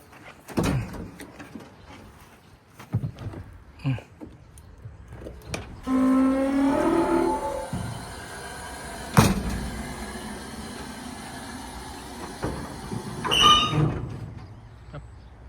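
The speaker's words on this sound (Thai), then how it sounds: "เดี๋ยวกดดัมลงก่อนก่อนที่จะสตาร์ทเครื่อง" A Hino FC dump truck's tipper bed is lowered, with a mechanical hydraulic whine and rumble in the middle, sharp metallic clunks and door-like bangs scattered across the clip, heard nearby in an open setting.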